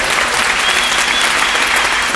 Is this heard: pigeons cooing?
no